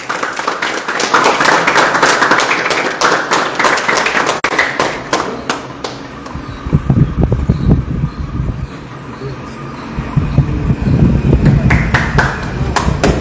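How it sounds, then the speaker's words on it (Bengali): A group of people clapping as a cake is cut at a team jersey launch celebration, a loose burst of handclaps in the second half amid voices and room chatter. "এবারে কেকটা কাটা হচ্ছে একটু করতালি একটু করতালি হয়ে যাক"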